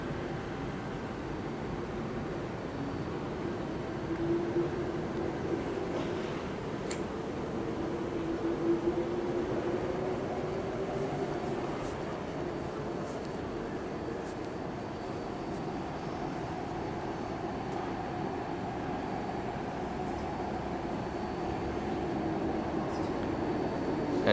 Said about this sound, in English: There's also a train arriving on platform number 1.